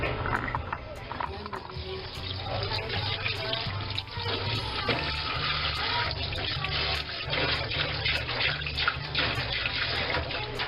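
Tap water runs steadily into a newly installed kitchen sink in a tiny house while dishes are washed, a continuous broadband splash with faint clinks throughout.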